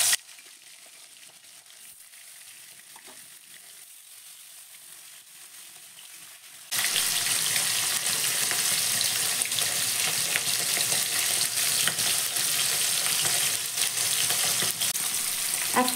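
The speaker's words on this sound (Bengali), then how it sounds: "আমি এবার একে একে মাছগুলো দিয়ে দিচ্ছি তেলের মধ্যে।" Fish pieces go into hot mustard oil and a loud, steady sizzle erupts partway through, following a quieter stretch of low kitchen noise.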